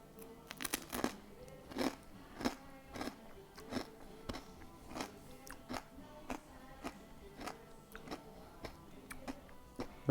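Close, loud crunching of crisp air-fried potato chips being chewed, steady rhythmic bites repeating for several seconds with no talking.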